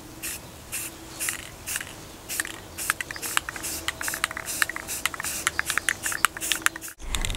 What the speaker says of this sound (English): you want to take light strokes and just start spraying it on